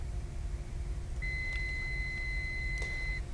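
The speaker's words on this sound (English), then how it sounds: "That beep means I turn the autopilot off" Steady electronic tone sounds in a flight simulator cockpit as the autopilot disconnects in Microsoft Flight Simulator X, held for about two seconds over a constant engine and cabin hum, with a brief click near its end.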